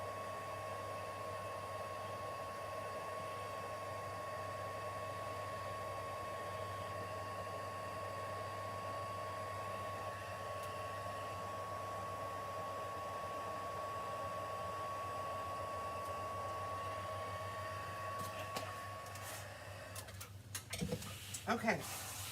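Heat embossing tool blowing steadily and continuously on whisper white ink, a loud constant hot-air whir with a low hum, running alone for about twenty seconds before some handling clatter at the end.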